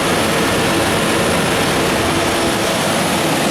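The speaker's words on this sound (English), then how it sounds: "The compressor is on, as indicated by that little snowflake there" A K-Chill 10 ton air-cooled chiller runs with its compressor on, giving a loud, steady, broadband roar of rushing air and machinery, constant throughout with no variation, close up and alone.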